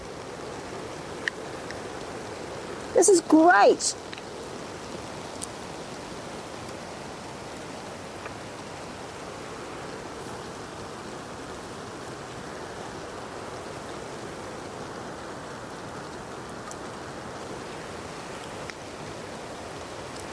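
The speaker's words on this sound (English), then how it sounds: "We've got rain." Steady rain patters on a camping tarp beside a campfire, a soft continuous hiss that fills the whole stretch, with a brief spoken remark near the start.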